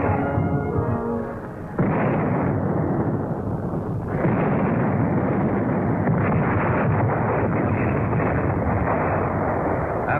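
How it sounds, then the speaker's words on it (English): A heavy artillery barrage at El Alamein in 1942 thunders as a continuous, loud, dense roar of gunfire, with a brief dip before it swells again and holds steady throughout. "After a heavy artillery barrage, General Montgomery surprised the Germans by"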